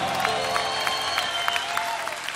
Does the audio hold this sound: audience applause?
yes